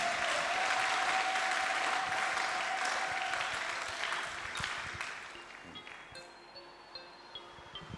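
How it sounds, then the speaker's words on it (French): A church congregation applauds the Lord during a sermon, a dense round of clapping that is loud at first and fades to scattered claps over several seconds. "Applaudis très bien le Seigneur des Seigneurs."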